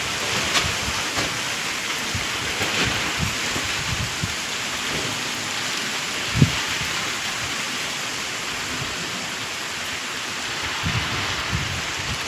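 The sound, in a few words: wind and rain starting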